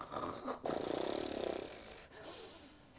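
A voice imitates a snore, a drawn-out rattling inhale rising in loudness, followed by a softer breathy exhale.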